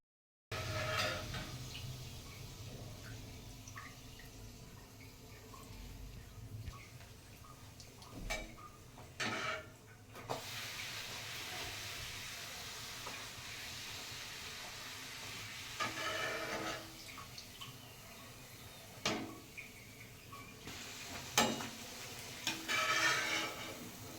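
Puri frying in hot oil in a kadai, giving a quiet, steady sizzle with several louder bubbling surges as the dough is added and puffs.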